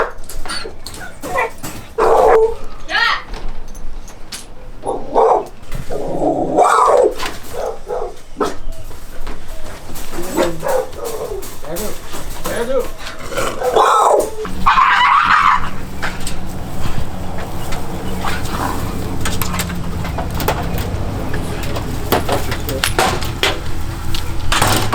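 A frightened dog shut in a crate near a front door whimpers, squeals and barks in repeated loud bursts close by, with a second crated dog nearby and steady background noise throughout.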